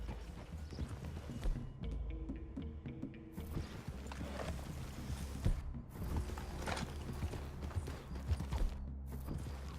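Horses from the video game Red Dead Redemption 2 walk with steady clip-clopping hooves across roughly ten seconds, joined by creaking tack and faint game ambience, with no talk over them.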